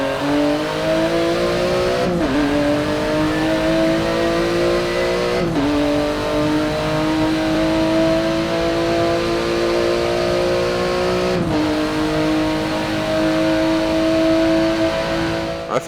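A Porsche race car in Forza Motorsport 7 drag racing, its engine roaring steadily at high revs and climbing through gears with three sharp upshifts, loud and close with no talk.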